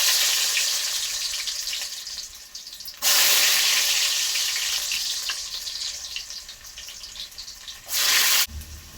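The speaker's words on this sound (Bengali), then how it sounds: "দিয়ে দিলাম রসুন কুচি।" Chopped garlic sizzles in hot oil in a pan during preparation of a fish curry with tomato, a steady broadband frying hiss with two brief louder bursts, no voices.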